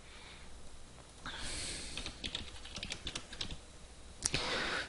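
A password is typed on a computer keyboard, with close, quick, uneven keystroke clicks and taps in short bursts over a quiet room background.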